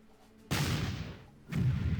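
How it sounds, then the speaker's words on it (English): British 18-pounder field gun from the World War One strategy game Battle Academy WW1, firing two sharp booms about a second apart, each with a short rumbling decay, over a quiet background. "We're going to go ahead and see if we can do anything with the 18-pounder field gun. And I'm actually going to try to fire over here."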